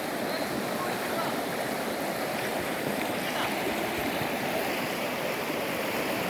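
Steady rushing water of a stream at Kaalikesham waterfalls near Keeriparai, Tamil Nadu, a constant broad roar with no breaks, close and loud.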